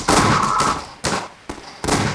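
Grenade blasts in the game Garry's Mod: a long loud broadband burst followed by three sharp explosive cracks about half a second apart, each with a decaying tail, close and unaccompanied by talk.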